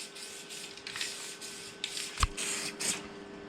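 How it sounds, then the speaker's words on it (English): An aerosol can sprays dry white powder rust protection onto a replacement car door panel in bursts of hissing spray, fairly close, with short gaps between passes and a brief knock partway through. "Spray it down."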